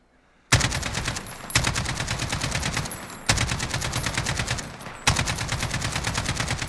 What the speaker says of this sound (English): So definitely a viable machine gun.